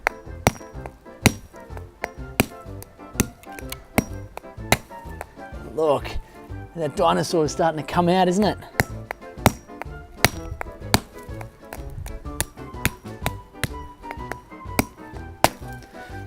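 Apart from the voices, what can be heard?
big hammer breaking open a homemade dinosaur egg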